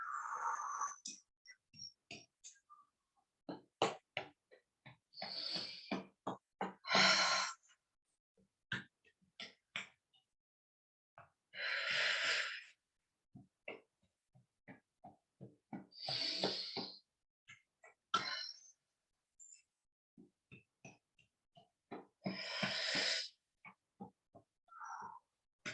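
Several people breathe in and out together during a guided relaxation and self-massage exercise, with repeated airy inhales and exhales at a steady rhythm, fairly close and moderately loud, separated by quiet pauses.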